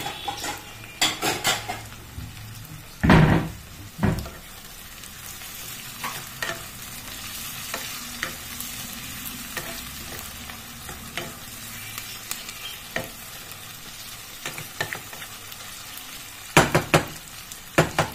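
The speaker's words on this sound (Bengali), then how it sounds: "টমেটোটাও একটু হালকা ভেজে নিতে হবে" Tomatoes fry lightly in a pan, a steady soft sizzle broken by sharp clinks and scrapes of a utensil stirring, with louder knocks near the start and end.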